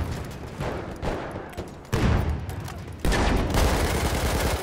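Machine-gun fire in the World War I battlefield game Verdun, dense rattling bursts with loud jumps in intensity, mixed with surrounding battlefield gunfire.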